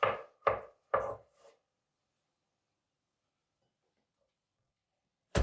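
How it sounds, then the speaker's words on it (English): A knife chops meat into larger chunks for preserving in jars, Romanian village style: three firm, close thuds in quick succession on a board, then a long silence ending in one more sharp knock. "we're going to cut these into somewhat larger pieces because we'll be placing them into jars"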